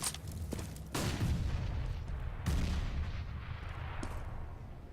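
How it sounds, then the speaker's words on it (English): Gunfire from Counter-Strike: Global Offensive in a professional LAN match, with a burst of shots at the start, a loud volley near one second and another around two and a half seconds, over a steady din. "Swag under some gunfire there, but he does take down Simphis."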